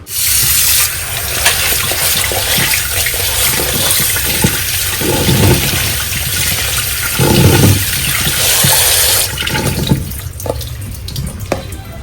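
Frozen beans being rinsed under running tap water, with a loud steady gush that stops and starts, broken by sloshing and swirling bursts as the beans are washed by hand.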